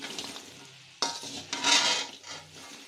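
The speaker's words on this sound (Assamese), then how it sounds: "গেছটো অফ কৰাৰ পিছতো এইখিনি অকণমান লৰাই থাকিব, নহ'লে তলত সেইটো লগাৰ চান্স থাকিব পাৰে।" Chana khurma being stirred in a pan on a stove, soft scraping and light sizzling with a sharper clatter of the spoon against the pan midway, close and fairly quiet with no talking.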